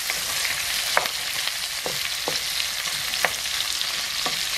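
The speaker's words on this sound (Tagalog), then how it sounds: "Isa pa natin ng maayos para maluto yung bawang, sibuyas at saka yung luya." Garlic, onion and ginger sautéing in a pan, a loud continuous sizzle broken by occasional sharp stirring scrapes, close up with no voices.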